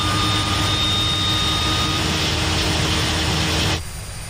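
Both engines of a Twin Otter turboprop roar in a steady, loud drone in Microsoft Flight Simulator 2020, with a thin whine on top, before the sound drops abruptly to a quieter hum near the end.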